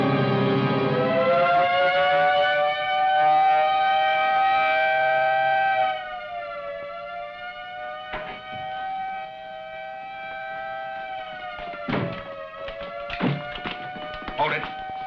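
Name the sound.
prison general alarm siren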